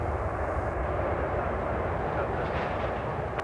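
The last Boeing 747 ever built lands at Chicago O'Hare, a loud, continuous broadband jet roar that holds steady throughout without pause.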